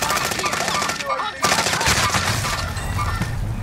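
Rapid automatic gunfire in an online shooter match, a loud sustained stream of shots with a brief pause midway before the firing resumes, close and intense.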